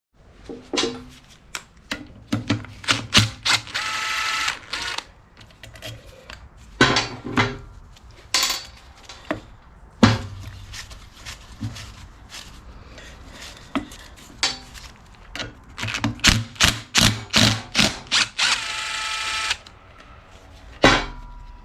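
The gear and crankshaft of a Freightliner Cascadia air compressor are turned during a teardown, giving a series of close, sharp metallic clanks and knocks in irregular bursts, with brief pauses between them.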